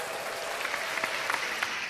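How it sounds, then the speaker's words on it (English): Brief applause on a podcast, a short burst of steady clapping with a few sharper hand strikes, moderately close and without talking. "Round of applause, man"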